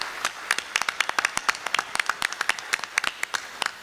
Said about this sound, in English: If they can stand and give them an applause to them